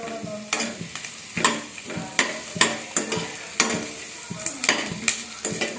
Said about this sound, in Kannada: ಗೋಲ್ಡನ್ ಬ್ರೌನ್ ಆಗುವವರೆಗೂ ಫ್ರೈ ಮಾಡ್ಕೊಬೇಕು